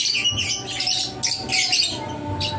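A young green pet bird chirps and squawks in a few sharp bursts, close and fairly loud, alone without talk.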